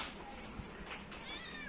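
Oreo the cat gives a short meow, faint and slightly distant over a steady background hiss, lasting well under two seconds.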